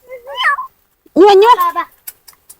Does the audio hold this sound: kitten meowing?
yes